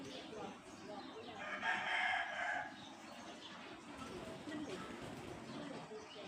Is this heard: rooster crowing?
yes